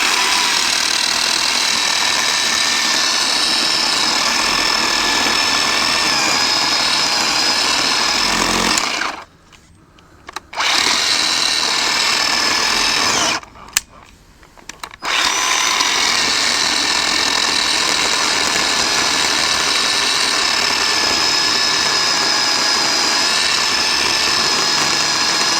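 A Harbor Freight 10-inch battery-powered electric chainsaw cutting through hard wood, a loud, steady close-up whine that runs continuously, stopping twice briefly before starting up again.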